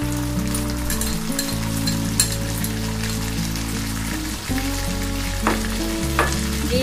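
Prawns frying in a pan as tomato sauce goes in, a steady, loud sizzle with brief stirring scrapes and crackles throughout.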